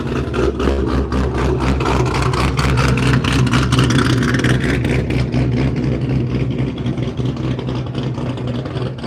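A loud, throaty car engine revs hard close by, a rough growl rising in pitch and holding, with a burbling idle underneath.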